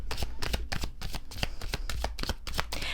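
A tarot deck being shuffled by hand, a dense run of quick riffling snaps and soft card slaps, close and fairly loud, continuous for a few seconds with no talking.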